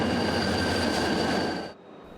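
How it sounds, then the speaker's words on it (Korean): An orange tourist train running from Seoul to Gunsan rumbles past with a dense, loud roar of wheels on rails and a sustained high squeal, cutting off abruptly near the end. "서울에서 군산으로 향하는 주황색 관광열차"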